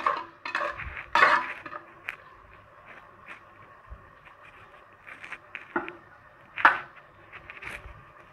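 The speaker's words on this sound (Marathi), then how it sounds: "हे मस्त हलवून घ्यायचं आहे. सर्व मसाले एकजीव झाले पाहिजे." A spoon stirs turmeric and spices in a pot while tempering khichdi, giving scattered metallic scrapes and clinks. The sounds are close and uneven, with louder knocks near the start and again toward the end, over quiet kitchen background and no speech.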